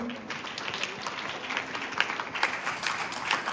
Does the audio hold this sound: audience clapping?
yes